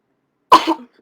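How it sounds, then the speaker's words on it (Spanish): A single sharp cough bursts out close and fairly loud, then trails off in a rough throat-clearing rasp, standing alone against silence. "De tanto hablar ya me da tos"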